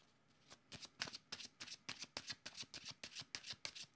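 Tarot cards being shuffled for a reading, a quick run of about a dozen crisp riffling bursts in steady rhythm, close and clear with no voices.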